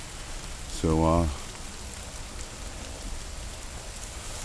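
Steady rain patters on a campsite throughout, a soft even hiss, with a short spoken word near the start.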